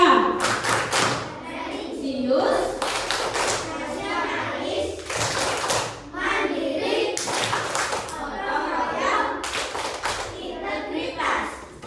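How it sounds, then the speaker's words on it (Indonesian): A group, apparently children, performs the PPK clapping chant in a classroom, with bursts of synchronized claps in a repeating rhythm alternating with chanted voices, close and loud. "Berdiri, tepuk PPK"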